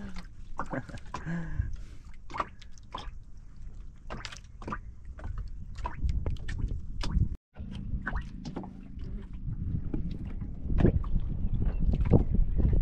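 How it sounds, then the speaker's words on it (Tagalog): Wind gusts at sea from a small fishing boat, buffeting the microphone with a continuous rough rumble and scattered knocks and splashes, briefly cutting out midway. "Hangin."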